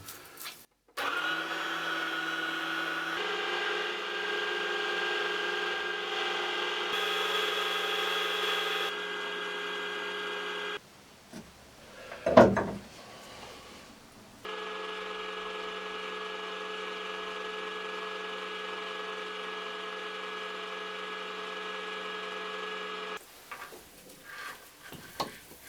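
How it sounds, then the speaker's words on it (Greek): An electric sausage stuffing machine hums steadily while pushing minced meat into sausage casings, a loud motor drone that stops briefly partway with a sharp knock, then resumes. "τώρα είμαστε έτοιμοι να βάλουμε μπρος τη μηχανή και να γεμίζουμε λουκάνικα."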